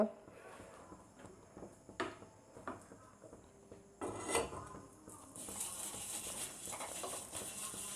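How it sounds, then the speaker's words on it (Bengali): A cut eggplant top brushes oil onto a heated clay chitoi pitha mould, making faint, close rubbing and scraping strokes. A voice talks over parts of it, and a soft, steady hiss rises toward the end. "আমি সুন্দর করে তেলটা এখানে ব্রাশ করে নিলাম"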